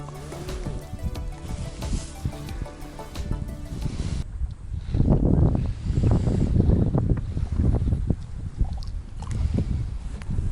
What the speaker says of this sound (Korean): 바람이 왜 이렇게 부냐